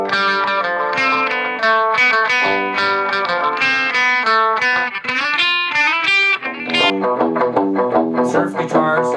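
Surf-style guitar played on a 1963 Gibson Firebird 7 solid body with small pickups in an in-between position, a continuous sequence of clean, reverb-tinged melodic notes and chords, up close and alone.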